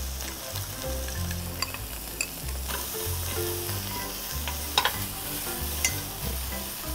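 Green onion, garlic and carrot stir-fry in a stainless steel pan, giving a steady close sizzle broken by scrapes and a few light clinks of the utensil against the metal.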